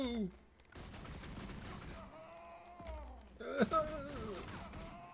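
Pistol gunfire in Guild Wars 2 comes in bursts of rapid shots over busy game effects and music, with a louder flurry near the end.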